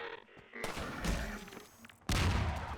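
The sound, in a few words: sniper rifle shots at zombies in video game Half-Life 2 Episode One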